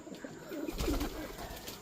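Pigeons cooing nearby, soft low warbling coos repeating over a steady background hum.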